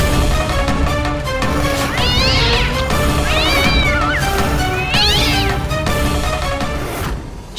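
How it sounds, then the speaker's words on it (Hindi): A cat meows loudly and repeatedly, with several drawn-out rising and falling cries close by over a constant, busy background. "कहीं इस बिल्ली ने शंकर पर हमला तो नहीं किया था?"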